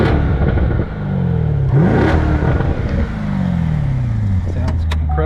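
A 2015 Chevrolet Corvette C7 Z51 with a 7-speed manual and dual mode performance exhaust with larger tips, in sport mode, revs loudly and close up, its deep engine roar rising and falling continuously.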